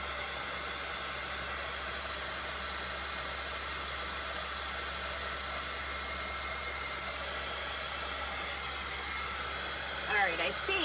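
A hair dryer blows hot air steadily over a Dollar Tree plaid Halloween pumpkin craft, a loud, unbroken whooshing hum held for the whole stretch, with a faint voice near the end.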